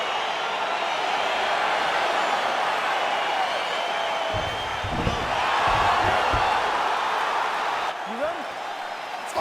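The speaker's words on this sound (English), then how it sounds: "crowd getting excited as this fight gets underway" A UFC arena crowd roars steadily at the opening of the Pereira vs. Adesanya middleweight title fight, a loud continuous wash of cheering with brief swells and a few sharp thuds midway.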